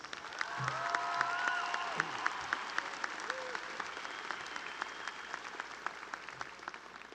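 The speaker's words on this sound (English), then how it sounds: "Give them a round of applause" A graduation-day crowd gives a round of applause for honored students, steady moderate clapping spread through a large hall with a few scattered shouts and a short voice over it.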